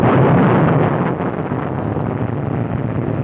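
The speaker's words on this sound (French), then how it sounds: "une démonstration spéciale de bombardement de précision" Bombs from a pre-war Royal Air Force precision bombing demonstration pound a simulated ammunition depot, a loud, continuous rumbling roar of blasts that stays dense and steady throughout.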